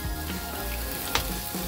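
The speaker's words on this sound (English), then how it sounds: "I am starting with melting the margarine. Then I am adding the red onion" Red onion frying in melted margarine, a steady close sizzle with one brief sharper crackle partway through and no talking.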